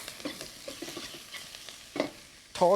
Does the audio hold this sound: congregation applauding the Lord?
no